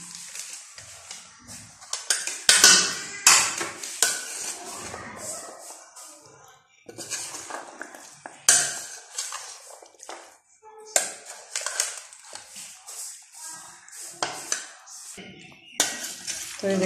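Chana chaat tossed with chaat masala and chopped green chilli, a spoon scraping and stirring in a bowl with intermittent clinks and shuffling, close and moderately loud with pauses between bursts.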